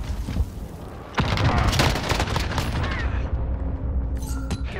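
Light machine gun fire in Call of Duty: Modern Warfare, dense bursts of loud gunshots with booming impacts, starting softer then sustained and rapid through most of the stretch.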